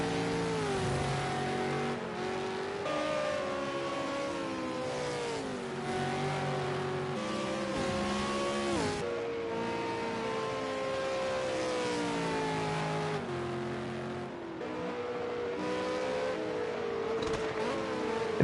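A race car in the ARC Supercars racing video game at Bathurst screams through its gears, the engine tone climbing and dropping repeatedly in a continuous, loud, high-pitched whine with no talk over it.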